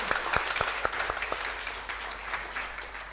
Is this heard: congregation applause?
yes